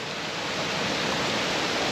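Steady broadband rush of creek water flowing over rocks on a Smoky Mountains trail, continuous and fairly loud with no voices.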